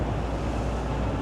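Strong wind buffets the microphone outdoors by a large parking garage downtown on Fremont Street, a dense, loud, unbroken rumbling roar with no talking.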